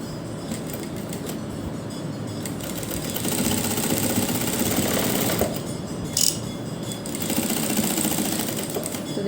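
A sewing machine stitches a fabric neckline with a continuous rapid mechanical whir, close and steady, briefly rising in intensity partway through.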